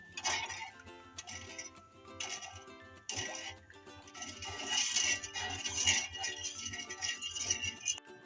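A spoon stirs milk and sugar in a pot while making rasmalai, giving a run of light irregular scraping and clinking against the metal, soft and close with brief pauses.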